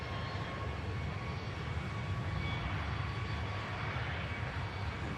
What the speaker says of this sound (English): Delta Tango, the registration on this Chinese peony schemed aircraft here.